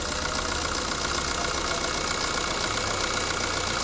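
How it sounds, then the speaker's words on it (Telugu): A 2009 Maruti Swift VDI diesel engine runs steadily with a continuous, close mechanical drone, loud and unbroken, with no voices over it. "ఒకసారి రేస్ ఈ బండి, ఎందుకంటే ఇప్పుడు రేస్ ఇస్తున్నా బండి."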